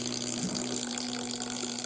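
A ball spins in water, stirring a vortex at the surface: a steady, close watery swirl with a constant low motor-like hum underneath, no talking.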